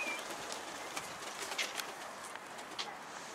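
A pigeon arrives at a coop and coos softly, faint and distant under an outdoor background hiss, with a few brief chirps and scuffles.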